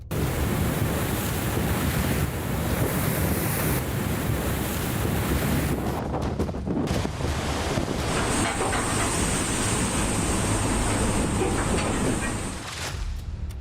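A cyclone-driven sea roars and crashes against the shore as Cyclone Yaas approaches, with strong wind battering the microphone in a dense, unbroken wash of noise that stays loud from start to finish.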